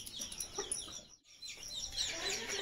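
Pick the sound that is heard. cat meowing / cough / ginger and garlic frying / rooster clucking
rooster clucking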